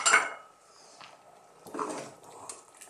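Zucchini and sliced mushrooms dropped into a soup pot for a hearty Italian chicken soup, a clattering tumble of vegetable pieces against the pot at the start, then quieter knocks and a second soft spill, close by with no talking.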